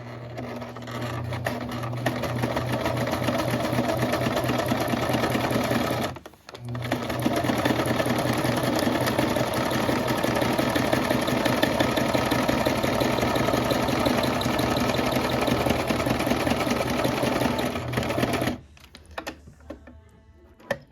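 A sewing machine stitches a DIY Capri Sun pouch lunch tote in a loud, rapid, steady whir. The machine stops briefly twice and then runs on, close up.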